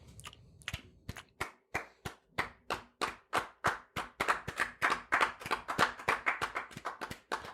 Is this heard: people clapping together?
yes